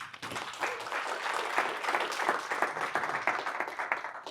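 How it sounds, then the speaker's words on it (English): An audience at a talk gives a burst of dense clapping that rises quickly and holds steady for a few seconds, with no voices over it. "Give them applause."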